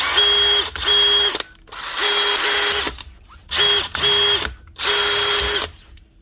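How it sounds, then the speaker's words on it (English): A DeWalt cordless drill with a new chuck whirs in short repeated bursts, spinning up and stopping several times with brief pauses between, close and fairly loud. "One Dewalt drill with a new chuck."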